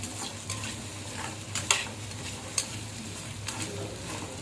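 Mutton fries in sesame oil with a soft, constant sizzle, while a spoon stirs and scrapes through the pan in a few sharp strokes, close by.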